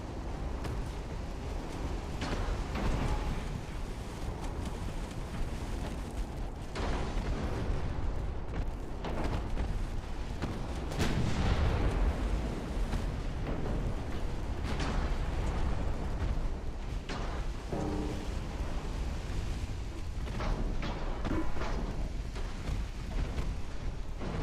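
Milky Way class battleships in a USA long campaign strategy game unleash artillery fire as repeated heavy booms and crackling blasts, overlapping continuously with a dense roar of distant explosions throughout.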